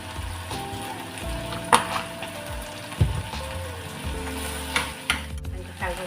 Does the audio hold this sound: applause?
no